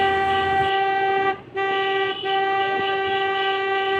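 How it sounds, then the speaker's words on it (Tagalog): A loud, sustained horn blares close by, briefly broken twice, holding one steady harsh tone throughout. "Dahil nga malakas naman ang busina ko, yung ibang sasakyan na ipatabi ko."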